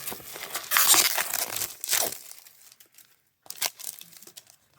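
Packaging of a brand new stock MGC 5x5 speed cube being unwrapped, with close crinkling and tearing of plastic in two bursts separated by a short pause, no talking.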